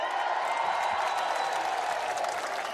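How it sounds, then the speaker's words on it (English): A home Scottish crowd at the 2014 Commonwealth Games lawn bowls men's fours gold medal match against England applauds and cheers in a steady, distant wash of clapping that holds for the whole moment. "The home fans just being asked to cheer ahead of the start of this match."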